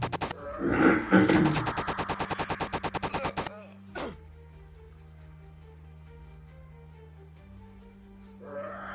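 Rapid bursts of gunfire from a mobile first-person shooter built in Unity, a loud rattling volley lasting a few seconds, then a quieter stretch of steady game hum and a brief final sound near the end.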